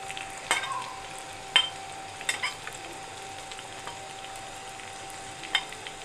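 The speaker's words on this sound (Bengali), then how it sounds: "এখন আমি এটাকে একটু হালকা আলতো হাতে নাড়াচাড়া করে নেব।" Spoonfuls of whole and ground spices, cumin, cardamom, cinnamon, coriander and salt, sizzle quietly in a hot pan for chana chicken dal, with a steady faint frying hiss and a few sharp scraping stirs spaced through it.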